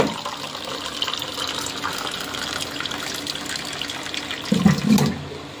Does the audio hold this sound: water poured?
yes